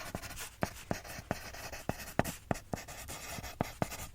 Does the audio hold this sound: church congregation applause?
no